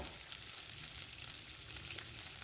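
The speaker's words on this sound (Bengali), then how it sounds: "তারপরে চিকেনটা দিয়ে ভালো করে নেড়ে একটু ভেজে নেব।" Chicken pieces sizzle as they are stirred and fried in a pan for a Shahi chicken korma. A short burst of steady, dense hissing plays quietly with no talk.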